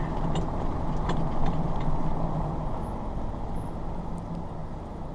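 A car drives across a beach, its steady engine rumble and tyre noise on sand continuing close by with no talk.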